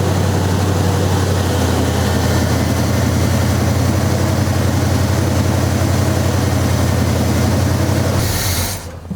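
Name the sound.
1972 Chevy El Camino engine idling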